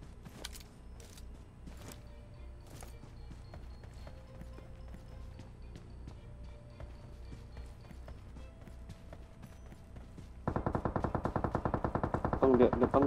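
Gunfire in a mobile shooter game, with scattered distant pops over a low rumble, then a loud, rapid automatic burst near the end as voices chatter.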